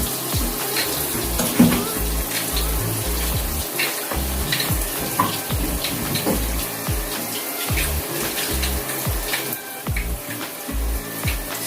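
Water runs steadily from a tap during at-home hair colouring, a continuous close splashing hiss with irregular gurgles and knocks throughout.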